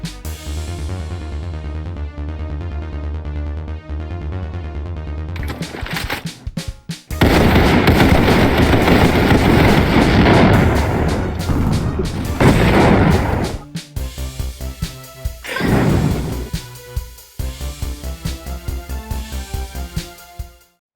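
Explosion in the Criminality video game, a loud sustained blast of roaring, crackling noise after a quieter tonal musical opening, followed by further bursts and rumbles, with no talk over it.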